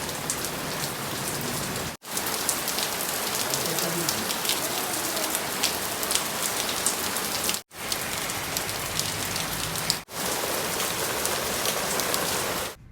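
Steady rain falling outdoors in Multan, a dense, even hiss of drops on surfaces that runs without a break except for a few brief cuts, with no voices.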